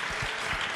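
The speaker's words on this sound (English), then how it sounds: "please applaud for that" Audience applause at a celebrity Blue Origin mission press conference, a short steady burst of clapping that fills the room at moderate loudness.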